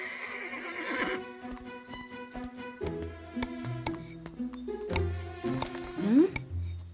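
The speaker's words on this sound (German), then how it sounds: "Mann, die Pferde machen einen ganz schönen Krach." Animated horses in a Horseland stable neigh and stamp amid a busy, layered mix, ending in a short rising whinny, with moderate loudness throughout.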